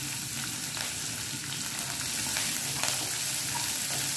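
Finely chopped green chillies with a little garlic frying in a pan, giving a steady, moderate sizzle and crackle throughout with no voices.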